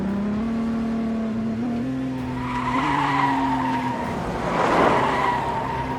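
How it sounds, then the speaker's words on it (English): Race car at the 24 Hours of Le Mans skidding and striking the wall nose-first, a steady engine drone with a sliding pitch swelling into a loud broadband crunch near the end. "bashed the wall with the nose of the car"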